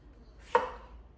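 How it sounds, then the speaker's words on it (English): A single knife stroke through a potato on a cutting board, one short crisp chop with quiet surroundings. "I'm gonna take my potatoes and just cut them into nice chunks"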